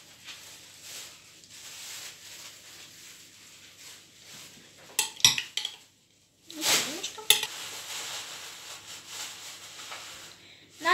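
Ketchup and mayonnaise get spread over pizza dough in a frying pan with soft scraping and smearing, plus a few sharp clinks of utensil on pan and brief pauses.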